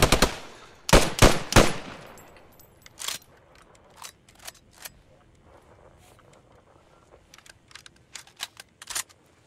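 An M1 Garand rifle in the game Post Scriptum fires three loud close shots in quick succession, then softer metallic clicks and clacks follow as the rifle is reloaded before all eight rounds are spent.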